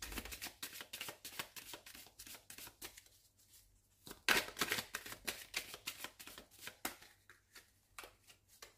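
A deck of tarot cards being shuffled and cut, soft close riffling and crisp flicking in quick repeated bursts, with one sharper slap partway through, faint and without talk.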